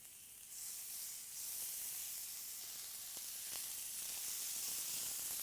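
Marinated meat sizzles on a hot grill, a steady bright hiss of frying close by that swells slightly after the first second and carries on without pause, with faint pops scattered through it.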